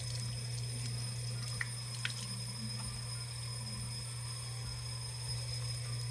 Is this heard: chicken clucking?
no